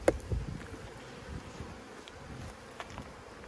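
Honeybees buzz around an open beehive during a June inspection of brood-filled boxes, a faint, steady hum with a few brief louder passes near the start and later on.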